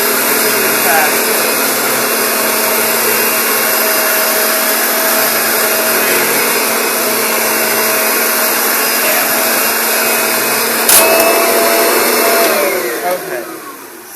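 A Kirby vacuum cleaner set to height 2 runs continuously over sandy carpet, a loud, steady whine and rush of suction sustained close by before it winds down and fades at the end.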